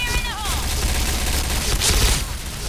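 Kriss Vector submachine gun fire in PUBG, a dense continuous stream of rapid shots throughout, loud and close, with a voice faintly underneath.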